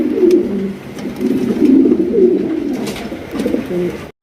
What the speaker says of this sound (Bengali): খুবই ভালো একটা রেসার কবুতর